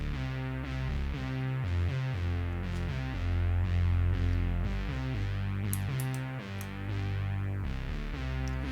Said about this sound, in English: what you're hearing is a Novation Moroder Nova being driven from the step sequencer